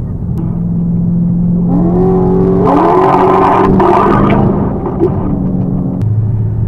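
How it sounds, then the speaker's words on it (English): Engine drone of cars on a road with pitches sliding down and up as they downshift and pull away, loud rumbling throughout, heard from inside a moving car. "Both cars just downshifting and taking off."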